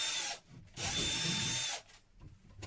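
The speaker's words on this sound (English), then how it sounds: "Go easy drilling on the wall because it is a hollow wall behind it, so you don't need much force." A power drill bores into a hollow plasterboard wall while a shelf is being hung, with two short, fairly quiet bursts of whirring broken by a brief pause.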